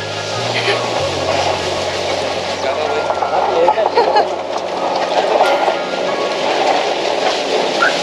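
Open-air tempo ride downhill from the Khajjiar paragliding ground, with a steady rumbling engine and rushing wind throughout, a voice talking over it.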